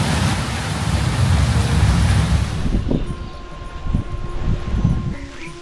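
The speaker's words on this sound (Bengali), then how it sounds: "আজকে শেয়ার করছি এই কালবৈশাখীর ভয়ঙ্কর ঝড়, সেই সঙ্গে বৃষ্টি।" Kalbaishakhi thunderstorm in rural Bengal, a loud broadband roar of wind and heavy rain that thins partway through into gusty, uneven rushing with scattered knocks and rattles.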